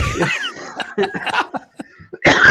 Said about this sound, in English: this is why I'm choking and coughing and laughing.